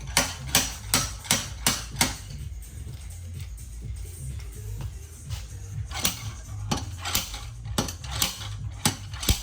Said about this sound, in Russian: приходится их долбить таким маленьким обратным молоточком